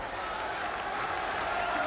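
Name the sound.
wrestling crowd in Boston Garden coming to life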